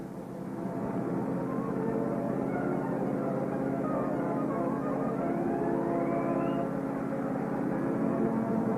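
A steady vehicle engine drone with a whirring hum holds constant throughout, rising slightly at the start, like a car driving along at speed.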